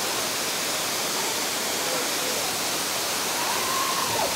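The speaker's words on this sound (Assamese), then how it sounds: "এয়া হৈছে কাকচাং ৱাটাৰফল।" Kakochang waterfall flowing, a steady, loud and dense rush of falling water filling the scene without a break.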